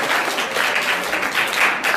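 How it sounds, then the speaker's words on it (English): Steady applause from a comedy show audience fills the whole stretch, a dense, even wash of many clapping hands without pauses and no voices on top. "Give them a round of applause."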